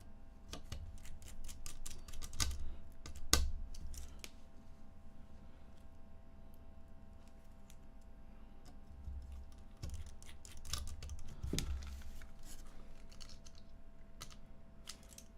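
Keys clack on a custom 65% mechanical keyboard, quiet irregular taps and clicks in bursts with short pauses, close and faint, with a low hum underneath.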